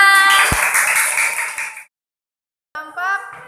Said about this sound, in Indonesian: Bagus, kasih tepuk tangan.